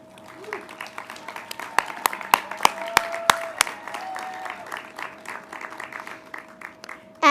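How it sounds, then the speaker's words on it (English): Scattered clapping from a graduation ceremony crowd at Tesla Educational Opportunity School in 2021, individual sharp claps standing out over a soft, steady patter of applause in a fairly quiet hall with a faint constant tone underneath. "Let us give them a huge round of applause."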